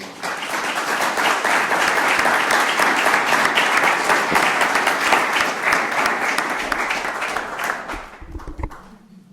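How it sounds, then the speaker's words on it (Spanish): Loud, dense applause fills a lecture hall after a conference on the battle of Las Navas de Tolosa, strong and sustained, then tapers off near the end as the clapping fades out. "Les pido un fuerte aplauso, por favor."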